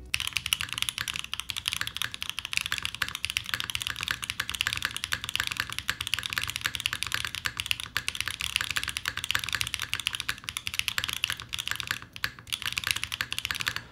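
Fast, steady typing on a Wind x98 R2 mechanical keyboard with a left-sided numpad, a dense stream of close, crisp keystrokes running continuously with only a brief pause near the end.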